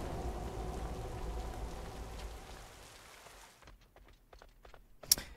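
Rain from Chaac's ability in the game Smite 2 hisses steadily at first, then thins into scattered drops and taps, ending with one sharp bright crack near the close.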